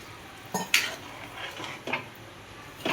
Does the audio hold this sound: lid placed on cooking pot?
yes